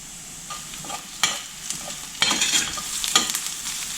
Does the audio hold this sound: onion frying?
yes